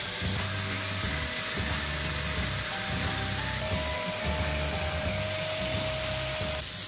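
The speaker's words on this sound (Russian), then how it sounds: "при помощи болгарки шлифую все неровности" An angle grinder smooths the uneven metal of a homemade metal-cleaning machine, giving a continuous high whine and gritty rasp over the hum of a running motor, loud and close without pause.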